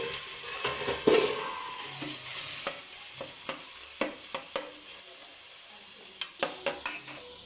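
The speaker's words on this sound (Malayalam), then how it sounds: "ഇതിലേക്ക് നമ്മൾ ഊറ്റി വച്ചിരിക്കുന്ന കീമ വറുക്കണം." Drained minced keema frying in oil in a pan for cutlets, a steady sizzle under repeated sharp scrapes and taps of a spatula against the pan, close and without voices.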